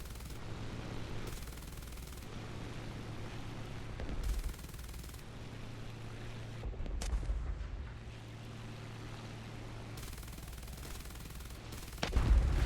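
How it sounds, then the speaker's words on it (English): Machine gun fire from an aircraft in the War Thunder flight game comes in several sustained bursts of rapid shots, separated by stretches of engine drone, loud and close. "Oh, I still got my machine gun."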